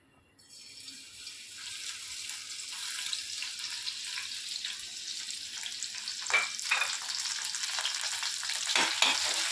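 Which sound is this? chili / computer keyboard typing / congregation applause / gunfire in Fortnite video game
chili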